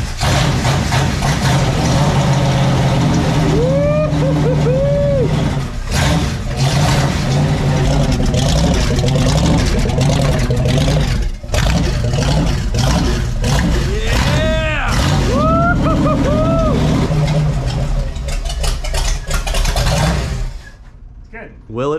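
An airboat engine running at idle, a loud close rumble with repeated revs throughout, under occasional shouted talk from people nearby.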